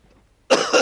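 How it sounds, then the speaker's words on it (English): A single abrupt, close throat-clearing burst after a moment of near silence, harsh and loud, with a brief second push at the end. "Let me clear my throat."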